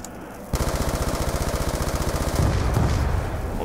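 Rapid automatic gunfire from a weapon in Black Ops 2 Zombies, with a quick steady burst of evenly spaced shots starting after a brief lull, loud and close, then continuing under denser game noise.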